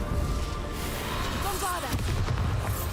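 A Confringo fire spell blasts in Hogwarts Legacy, a loud booming burst with crackling debris amid continuous game sound, close and dense, ending in a sweeping whoosh.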